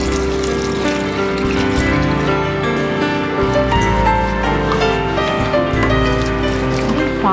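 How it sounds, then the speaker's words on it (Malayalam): Milk being poured into a pot of semiya (vermicelli) cooking for semiya ragi payasam, a steady close liquid pour and trickle running continuously over a low stove-like hum. "ഇനി ഇതിലേക്ക് നമ്മൾ എടുത്തു വെച്ചിരിക്കുന്ന പാൽ 1/2 ലിറ്റർ."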